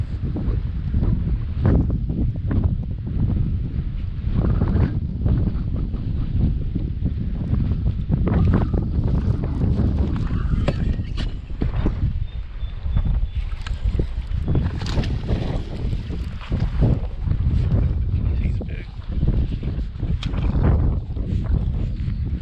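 Heavy wind buffets the microphone while bass fishing from a kayak on open water, loud gusty roaring that surges and fades throughout, with no talk over it.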